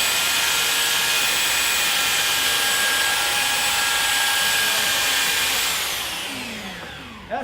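Power sander working over a piece of a wooden stool, a loud steady whine that runs continuously for most of the clip, then winds down near the end.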